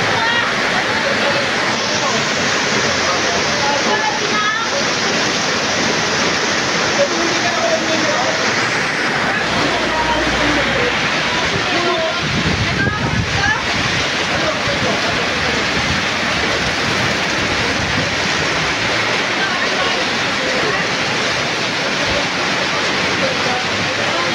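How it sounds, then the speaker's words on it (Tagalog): Heavy storm rain pours down in a steady, loud roar outdoors during a typhoon, near a roadside hangout of cyclists with classic bikes, a constant broadband wash with no letup. "Lakas ng ulan!"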